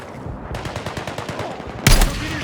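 Rapid automatic gunfire in the Battlefield 6 video game rattles in a steady stream of close shots, ending in a louder, heavier blast.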